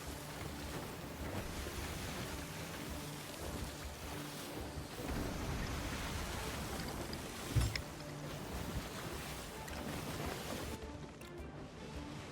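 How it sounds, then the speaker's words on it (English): Choppy ocean waves in the Sea of Thieves video game wash and churn continuously under wind noise, a broad steady surge with one brief low thump midway and no talking. "Waves are a wee bit choppy."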